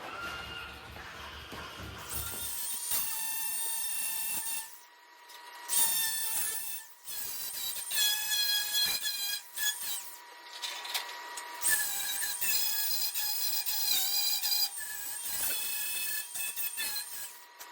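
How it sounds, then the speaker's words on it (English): An angle grinder strips paint and rust off the metal bumper of a 1946 rat rod truck, with a loud, shrill whine that runs in repeated bursts with short pauses and pitch shifts as the disc bites and lifts. "I'm just gonna grind off the paint here, grind off some rust"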